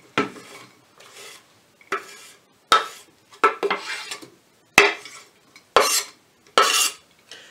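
Chopped onions tipped into a pan during home cooking of a goose dish, about ten sharp scraping clatters of a utensil against the pan at an uneven rhythm, loud and close with quiet gaps between.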